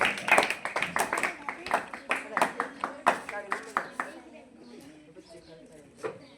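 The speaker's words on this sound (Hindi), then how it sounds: "जोरदार तालियां।" Clapping for the weekly test toppers at a coaching centre: a run of sharp, regular claps over the first four seconds, tapering into a quieter room with a faint voice.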